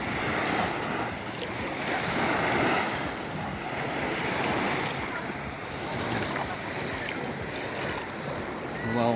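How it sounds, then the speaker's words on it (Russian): Waves of Lake Issyk-Kul in Kyrgyzstan washing and lapping along a shore in steady surges, mixed with gusty wind rumbling against the microphone. "Волна."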